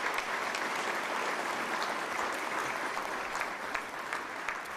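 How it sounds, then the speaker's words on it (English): Sustained applause from a crowd gathered for a Philadelphia mayor's update on the proposed Sixers arena in Center City, dense clapping holding steady and fairly loud throughout, no voices on top. "Give our Sixers a round of applause."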